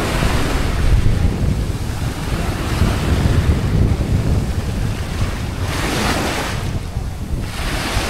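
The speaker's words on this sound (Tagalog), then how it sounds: "Medyo maalon pa rin yung karagatan ngayon." Ocean waves surging and washing in at Bonggo Bonggo Beach in Dauin, rough sea, loud and near, with wind buffeting the microphone throughout.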